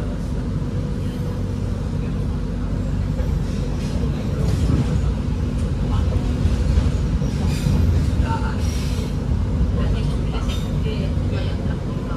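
A passenger train, the Pandalungan running about 80 km/h in Indonesia, rumbles steadily along the rails, a dense continuous roar with faint rattling and occasional higher squeaks, heard from inside the moving carriage.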